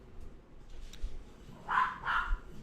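A dog barks twice in quick succession, faint and somewhat distant, over a quiet indoor background.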